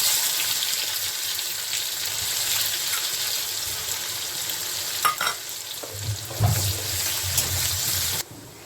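Cumin seeds and a large chopped onion frying in hot oil for chana masala, a steady loud sizzle with occasional stirring scrapes and clinks near the end.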